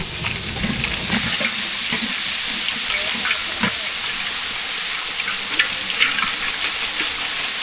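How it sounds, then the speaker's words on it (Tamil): Vada frying in hot oil, a steady broadband sizzle and hiss with occasional crackles and small pops, continuous and fairly close, with no talking. "இப்போ வடை போட்டுக்கிட்டு இருக்கிறோம்"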